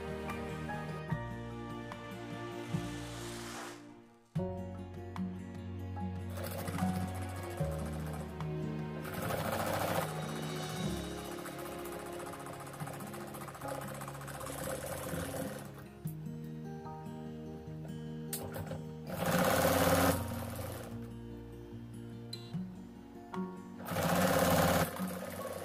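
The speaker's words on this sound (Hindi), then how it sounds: "पहले मैं इस कपड़े को इस तरह फोल्ड करते हुए नीचे की साइड सिलाई लगा लूंगी।" A sewing machine stitches a folded salwar fabric hem in several runs of rapid, steady mechanical whirring, separated by short pauses and louder bursts, close and without talk.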